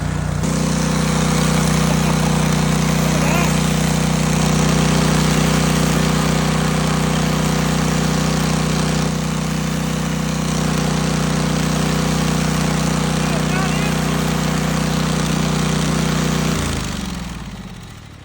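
An engine on an 8-inch farm grain auger runs loud and close at a steady idle-like drone in December rain conditions, continuous throughout before winding down at the end.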